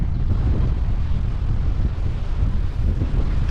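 Steady cold wind buffets the microphone outdoors in New Zealand near the end of winter, a continuous low rushing roar with no voices.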